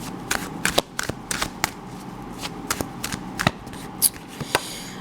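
Tarot cards are shuffled by hand in quick, crisp riffling bursts with uneven pauses between them, close and fairly clear, with no voice over them.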